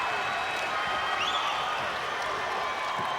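A basketball crowd at a 1988 national junior game between the USA and the USSR keeps up a steady roar of cheering and applause, a dense wash of noise with faint whistles and voices in it.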